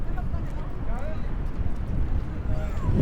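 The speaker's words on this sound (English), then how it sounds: "It's like it is windy out here" Wind buffets the microphone outdoors at Table Rock by Niagara Falls, a steady low rumble with gusty swells throughout, under a speaking voice.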